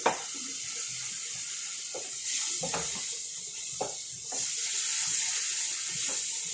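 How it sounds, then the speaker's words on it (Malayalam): Water runs steadily into a pan with a hissing, splashing wash, punctuated by a few clunks and taps of utensils. "ആദ്യം ഒരു ശകലം വെള്ളം ഒഴിക്കുക"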